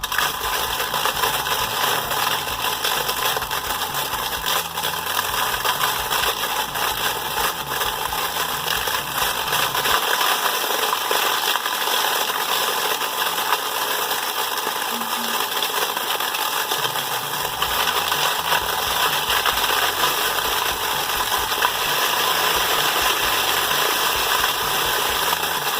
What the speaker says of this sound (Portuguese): Ligou o nosso triturador, vamos começar a jogar folha então